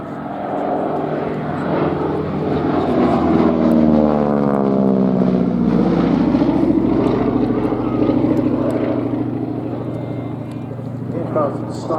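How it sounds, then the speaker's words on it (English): A propeller aircraft flying aerobatics at a Shuttleworth military airshow, its engine droning loud and close with a rising and falling pitch sweep as it passes, under a commentator's voice. "Aircraft stylishly aerobatic, often described by pilots who underwent their training on them as a flyer's machine"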